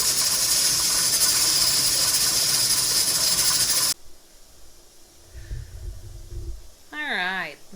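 A pressure canner holding jars of pork burritos vents steam in a loud, steady hiss that cuts off halfway, leaving quieter room noise, a low rumble and brief tonal sounds.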